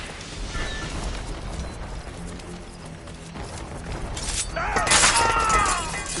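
Mortar fire during a battle in Assassin's Creed Rogue: a steady din of combat noise, then a louder cluster of blasts and crashing debris near the end.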